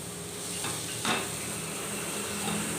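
Chicken with carrot, green chilli and masala with ginger-garlic paste fries in a pan, a constant close sizzle broken by a brief scrape of a stirring spoon against the metal.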